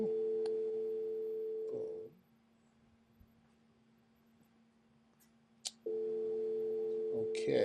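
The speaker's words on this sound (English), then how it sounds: "I think we have a phone call here." A telephone call tone sounds as a steady electronic tone for about two seconds, breaks off into near silence with a faint lower hum, then resumes steadily, followed by a brief click.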